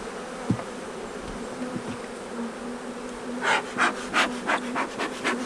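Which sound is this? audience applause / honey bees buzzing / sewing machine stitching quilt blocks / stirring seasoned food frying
honey bees buzzing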